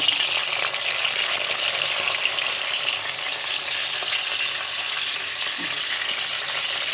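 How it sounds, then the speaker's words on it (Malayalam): Pearl spot fish (karimeen) frying in hot oil in a home kitchen, a steady dense sizzle that crackles evenly throughout without pause, close and fairly loud with no talking. "ഇത് ഒരു വശം നമ്മുടെ ഈ കരിമീൻ ഹാഫ് ഫ്രൈ ആയിട്ടുണ്ട്"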